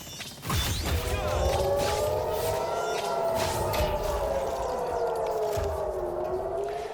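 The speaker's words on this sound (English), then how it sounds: "Sirens have been sounding across Israel after the latest wave of airstrikes launched from Iran" Civil defense air raid sirens sound in Israel, a loud wailing tone that rises and slowly falls, carried over a rumbling background for several seconds.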